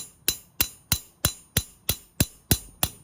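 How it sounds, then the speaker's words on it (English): A hammer strikes metal nine times in a steady, even rhythm while texturing a metal piece, each blow ringing sharply and briefly, close by. "it's just the weight of the hammer dropping"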